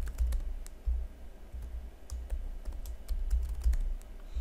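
Password being typed on a computer keyboard while a storage admin user is set up, giving a quick run of light, irregular key clicks throughout, fairly close and alone.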